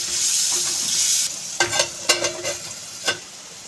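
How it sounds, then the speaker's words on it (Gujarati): Bitter gourd curry hisses and sizzles in a pan, then a ladle stirs it in a few scraping, clinking strokes, close up and alone. "આવી રીતે ચમચા વડે હલાવી તેને ઢાંકી દઈશું"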